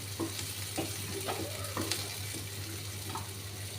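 Bitter gourd pieces frying in hot oil until golden, a steady close sizzle with a few clinks and scrapes of stirring over a low hum.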